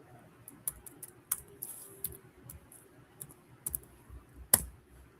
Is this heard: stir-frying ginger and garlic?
no